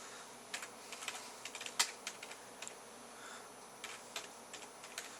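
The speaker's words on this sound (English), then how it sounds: "So if we go type it into Google" Quiet, irregular tapping of keys on a computer keyboard, close but faint, with short clusters of clicks over a low background hum.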